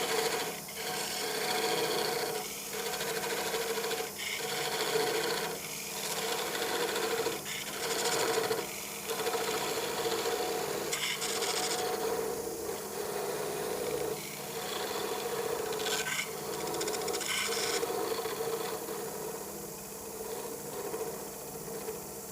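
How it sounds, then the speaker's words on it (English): A lathe spins at 900 RPM while a tool parts off a turned whiskey tumbler, giving a continuous rasping, scraping cut with a steady mechanical hum and rhythmic rubbing pulses throughout. "going to go ahead and cut this off while the lathe is still running, just to show you what it will do"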